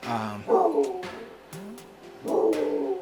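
Dogs whimper and yip in a home office, high whining cries rising and falling between short barks, close by and mixed with background voices.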